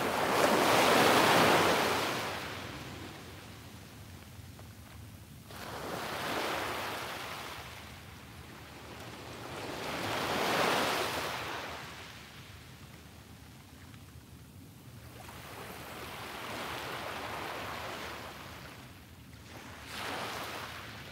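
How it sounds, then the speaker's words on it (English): Ocean waves at sunrise roll in as slow, broad swells of surf, each one rising and fading over several seconds in a steady rhythm, with a soft hiss between them and nobody speaking. "Soak in the sounds of the waves and set our intentions for the day."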